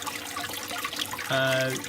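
Water runs and trickles over a gold prospecting miller table treated with rinse aid, a soft steady flow with a brief louder gush near the end.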